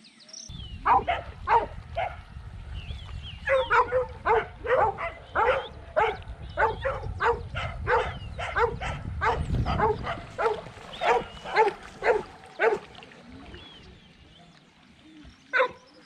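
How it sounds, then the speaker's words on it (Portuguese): Several dogs bark repeatedly in short bursts beside a lake, near and fairly loud, with a low rumble of wind or movement underneath and a parked pickup truck nearby. "E lá vão os cachorros."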